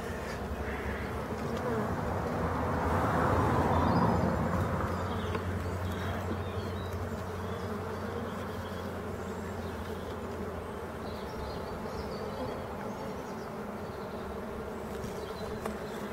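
Honeybees of colony no. 6 drone steadily around an opened hive in March, a dense, continuous buzz close by that swells slightly in the first few seconds, with a low steady hum underneath.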